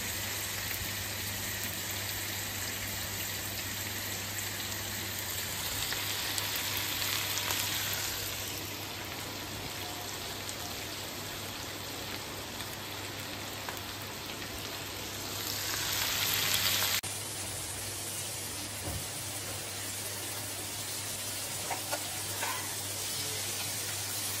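Onion frying in a pan gives a steady, close sizzle that runs throughout, swelling briefly louder in places, with no talking and a constant low electrical hum underneath.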